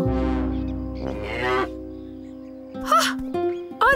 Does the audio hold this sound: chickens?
no